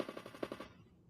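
A rapid burst of small gunshot sound effects played over a show, several quick cracks in a row that fade out after about half a second, fairly faint with no voice.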